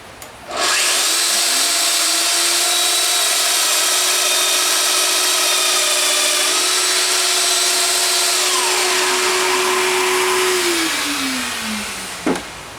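A Festool Domino D14 joiner cuts a mortise into wood, its motor spinning up to a loud, steady whine that holds for about ten seconds before winding down, with no talking.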